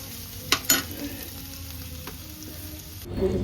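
Food frying in a pan in a home kitchen during festival cooking gives a steady, faint sizzle, with two sharp utensil clinks early on and louder stirring and scraping near the end. No one speaks.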